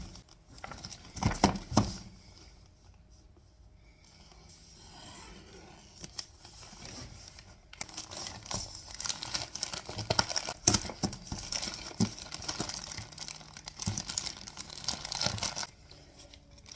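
Paper or plastic packaging of a mailed package being crinkled and torn open, with bursts of rustling and ripping scattered across the clip, close up and fairly quiet.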